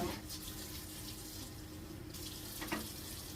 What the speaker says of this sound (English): I'm going to put a little bit of water, put a drop of dish soap, just put that much in it.